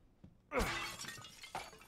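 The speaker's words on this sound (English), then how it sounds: "Like you can smash uh, glass and everything." Glass shattering in the Resident Evil 8 demo: a sharp, loud crash followed by a trail of tinkling shards, with a second smaller breaking burst near the end.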